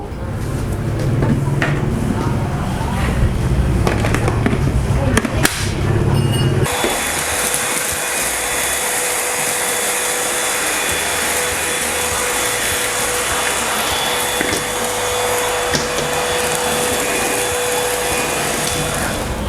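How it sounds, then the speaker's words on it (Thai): An imax IMVC-20 cordless vacuum cleaner runs with a steady high-pitched whine and airflow hiss, with clunky handling knocks early before the motor settles into a continuous loud drone. "การทดลองการใช้งานเครื่องดูดฝุ่นไร้สาย IMVC 20เครื่องนี้นะครับ"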